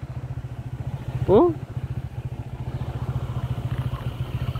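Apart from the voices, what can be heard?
motorcycle riding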